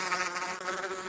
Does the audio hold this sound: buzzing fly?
yes